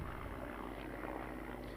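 Helicopter hovering above a cricket match, a steady broadband rotor and engine rumble at moderate level with no pauses, heard alone without talk.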